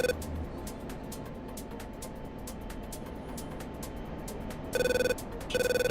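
A telephone rings in short electronic bursts near the end over steady background hiss, with sharp regular clicks throughout.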